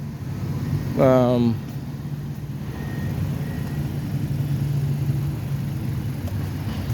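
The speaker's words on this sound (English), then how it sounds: "It's just a lot of traffic." Idling engines rumble steadily in heavy city traffic on Albany Street in Boston, backed up by a fatal crash with a police cruiser and transit bus nearby, with a brief horn-like tone rising early over the constant low drone.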